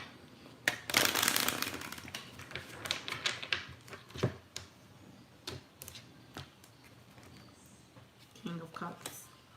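Crisp bursts of tarot card shuffling, rapid riffling clicks early on, then scattered taps and flicks, with a voice talking quietly underneath.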